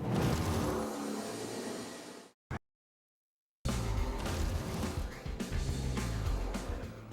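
Supercharged 5.4-liter aluminum-block V8 of a 550-horsepower Ford Shelby GT500 roars loud and close, broken by a brief cutout and a second of silence before the heavy engine sound resumes at full strength.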